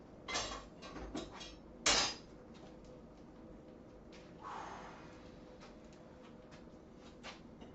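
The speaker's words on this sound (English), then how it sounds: "So once again, I'm starting to hammer just in the center." Hammer blows struck at the center of a workpiece, a few sharp metallic knocks spaced irregularly with one louder strike, over a quiet background.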